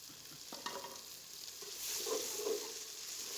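Tomatoes and green chillies fry in a hot pan for a village-style pumpkin chicken curry, giving a steady close sizzle with a few scraping stirs and small pops, no voices.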